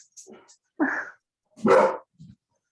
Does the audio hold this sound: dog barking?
yes